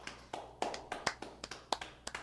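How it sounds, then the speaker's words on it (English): A small group claps in a brief, sparse round of applause for Andre, about eight distinct claps spread unevenly over a couple of seconds, fairly quiet and without talking. "give a round of applause to Andre"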